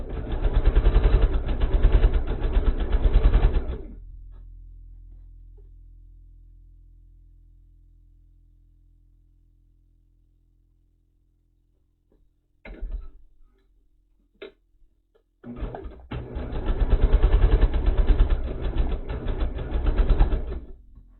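A sewing machine chain stitching quilt star blocks: rapid, even mechanical rattling in two close, loud bursts, separated by a long fading hum and a few small clicks.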